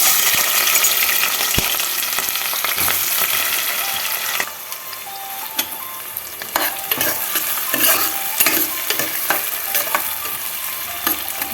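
Hot oil sizzles and crackles steadily as green chilies fry while a utensil scrapes and stirs in the pan, with sharp pops scattered throughout.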